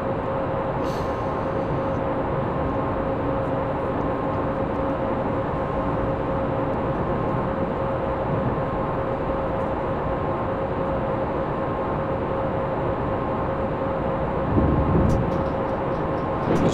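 A heavy electric train in Train Simulator 2017, apparently faulty and under tow, strains to get moving: a steady low rumble and drone with a sustained tonal whine, continuous and even throughout with no talk.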